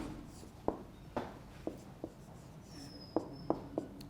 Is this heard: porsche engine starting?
no